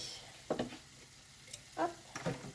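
A rice vinegar dressing stirred in a bowl, several short bursts of scraping and liquid swishing separated by quiet gaps, close and soft.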